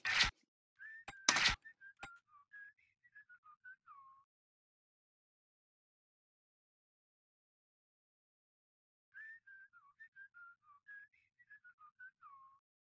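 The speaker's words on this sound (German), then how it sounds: "Das Pfeifen ist cool." Melodic whistling in Tony Hawk's Pro Skater 4, two short warbling tune phrases separated by a long silence, with a few sharp clicks just before the first phrase.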